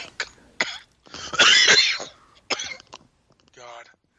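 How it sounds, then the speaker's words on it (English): A man coughs several times in harsh, throaty bursts, including one long hacking fit, with a short throat clearing and a brief voiced sound between them. "Sounds like you had about a pack of cigarettes. Damn cough."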